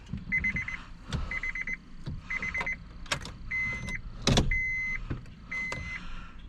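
Ignition of a Honda car switched on, bringing a repeating chime of evenly spaced warning beeps along with clicks and short mechanical whirs and thumps from the dashboard, close and moderately loud, no talking.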